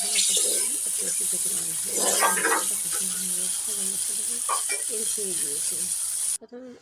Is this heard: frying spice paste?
yes